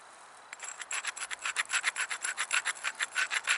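Rhythmic rasping strokes as a flint platform edge is ground during flint knapping, about a dozen quick, even scrapes in steady succession, close and moderately loud with no talking.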